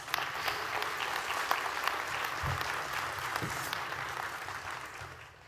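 A graduation audience at a 2021 ceremony gives a sustained round of applause, with fairly faint, even clapping from many hands that continues throughout and tapers slightly at the end.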